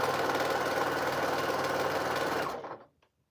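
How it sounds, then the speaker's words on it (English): A regular sewing machine, not a long-arm quilting machine, runs steadily at close range with a fast mechanical whir while sewing quilt scraps, then winds down and stops near the end. "Nope, that was a regular sewing machine."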